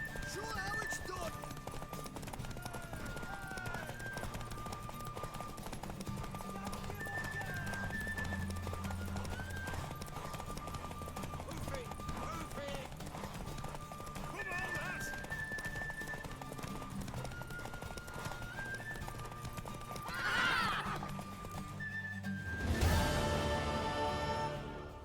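In The Witcher 3 on Xbox, a horse's hooves clip-clop steadily in a background full of game music, and a sharp neigh rises near the end. Voices speak over parts of it.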